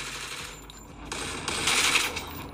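Gunfire in the Free Fire mobile game on an iPhone 8 Plus: a rapid burst of bright, crackling shots, loud and close, swelling toward the end over a busy game-sound background.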